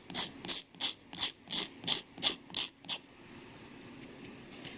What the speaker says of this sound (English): it's like a pet peeve of his to hear nails filed.